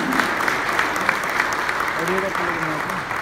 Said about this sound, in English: Let's have a huge round of applause for Commercial Vehicle Forum